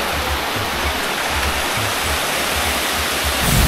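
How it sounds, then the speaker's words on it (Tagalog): A small waterfall at Sapang Uwak in Porac, Pampanga gives a steady, loud broadband rush of falling water, unbroken and close, with no voices over it. "may another mini falls na naman to"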